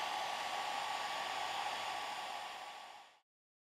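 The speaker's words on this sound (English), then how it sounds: "And if I need some additional drying, I can use just a hair dryer." A hair dryer blows a steady, loud, even whoosh while drying parts of an old phone during a restoration, running alone for about three seconds before switching off and fading out.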